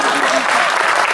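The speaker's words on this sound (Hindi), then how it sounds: "2-3 लोग ताली बजा रहे हैं" Applause at a Hindi comedy poetry recital, sounding like a fuller crowd than a few people, with loud, dense, continuous clapping that runs through the whole short stretch.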